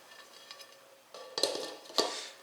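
A butter Bundt cake being unmolded from its metal pan onto a plate in a kitchen, soft scrapes followed by two sharp metallic clanks as the pan is set down and lifted, quiet and close.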